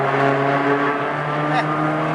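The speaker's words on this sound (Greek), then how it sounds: "Αυτό που άκουσες είναι Φεράρι τώρα" A Ferrari 360 Spider engine drones loudly and steadily up close while accelerating, with a deep humming tone.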